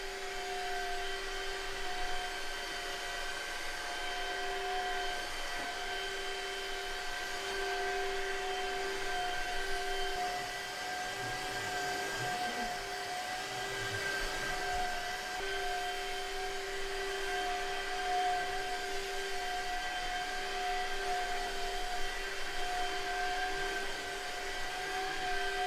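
A wet dry vacuum cleaning a light rug, a constant high whining motor hum with a steady airy rush that holds level for the whole stretch, close by, with no voices.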